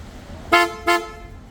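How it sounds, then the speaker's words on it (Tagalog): Two short, loud blasts of a deep, bassy aftermarket super bass horn on a 2025 Toyota Fortuner, in quick succession, with faint ambient noise around them. "Ito yung super bass na horn."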